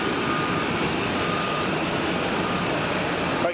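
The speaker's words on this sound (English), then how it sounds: "So we're going to watch this Swiss A380 at the moment, just waiting to start." A Swiss Airbus A380 at Zurich Airport, just pushed back, with its engines spooling up in a steady broadband roar and a high whine, loud and unbroken throughout with no voices.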